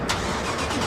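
A modified 2015 Toyota Camry XSE with an aftermarket exhaust cranks and fires, a short burst of engine noise settling into a loud, rough rumble up close.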